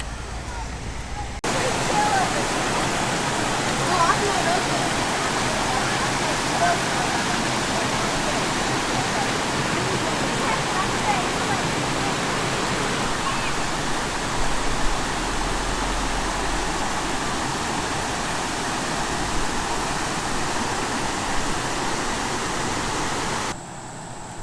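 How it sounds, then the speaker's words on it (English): Rocky Falls waterfall on the Ozark Trail along the Current River, a loud, steady broadband rush of falling water that holds constant throughout at close range. "We got to Rocky Falls."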